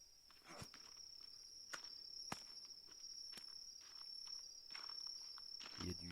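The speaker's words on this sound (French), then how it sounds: "Il y a du grillon dans ce coin là." Insects chirp steadily in a night forest in the video game The Forest, a thin continuous trill running throughout with a few soft footsteps and rustles over it.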